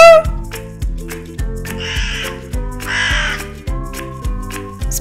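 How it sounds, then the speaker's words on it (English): A crow caws loudly and repeatedly in a steady rhythm, a series of harsh close calls with a brief high whistle at the start. "A crow says coo coo."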